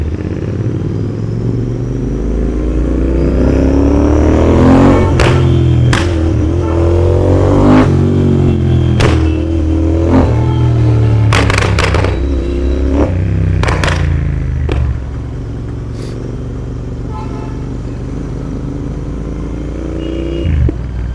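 Royal Enfield Interceptor 865cc motorcycle on a road ride, engine rumbling close and loud with repeated revs and gear changes, wind buffeting throughout and a slight drop in intensity near the end.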